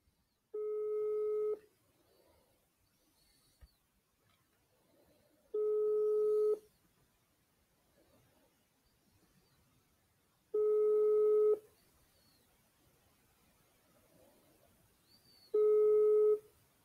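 Ringback tones while calling a mobile phone number: four long, evenly spaced tone bursts separated by several seconds of near silence, clear and steady.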